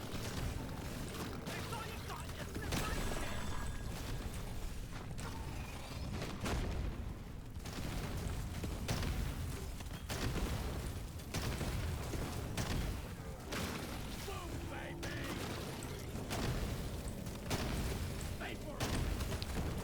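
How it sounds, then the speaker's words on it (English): Rapid grenade launcher blasts in the video game Deep Rock Galactic: Survivor land as a nearly continuous chain of booming explosions and pops. A player talks over the barrage. "my god, those explosions are insane"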